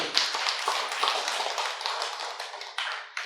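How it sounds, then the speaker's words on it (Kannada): A crowd applauds with a dense, steady clatter of many hands, sustained and fairly loud throughout. "ಅವ್ರಿಗೊಂದು ಜೋರಾದ ಚಪ್ಪಾಳೆಯನ್ನು ನೋಡಿ."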